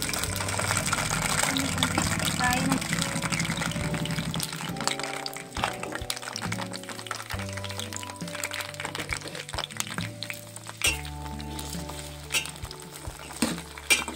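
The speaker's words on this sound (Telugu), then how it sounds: "ఫస్ట్ ఆయిల్ మరిగింది, పచ్చిమిర్చి వేసుకుందాం." Green chillies frying in hot oil for gongura pickle give a loud, steady sizzle at first that gradually thins into irregular crackles and pops as the cooking settles.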